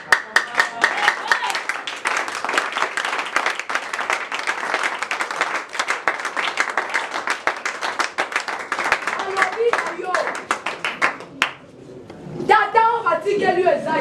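Church congregation clapping in acclamation, a dense rhythmic burst of many hands beating fast and loud for about eleven seconds, then dropping off as voices take over at the end.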